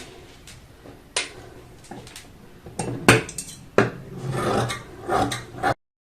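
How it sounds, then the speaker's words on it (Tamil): Scissors cut through net fabric for a designer frock, giving a series of close, sharp snips and rasping cuts with short pauses between them, a busier stretch near the end, and no talking. "இதை இப்படியே கட் பண்ணி எடுத்துக்கலாம்."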